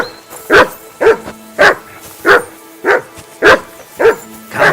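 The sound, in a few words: dog barking in Kingdom Come Deliverance 2 video game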